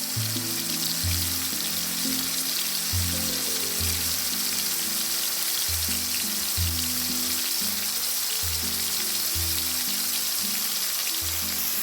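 Prawns deep-frying in oil, a constant bright sizzle close by, with a rhythmic low knocking pulse repeating underneath throughout, no voices.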